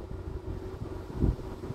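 Hot desert wind blows near Riyadh at the far end of Alto Mama Road, a steady low rumble of gusts buffeting the microphone, with a stronger burst around the middle and no talking.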